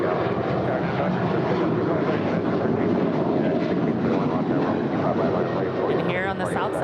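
An Alaska Airlines Boeing 737-800 jet departs LAX for Kahului, Maui, with a loud, continuous engine roar. Wind buffets the microphone throughout the close recording.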